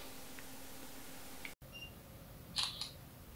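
A quiet electronic camera shutter on an LG Q7 smartphone clicks once over faint room hiss, preceded by a soft tap and a brief dropout.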